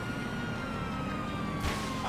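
Police car siren in the GTA 5 video game, a steady sustained wail with a slowly falling tone, loud and continuous over engine rumble, with a brief burst of broadband noise near the end.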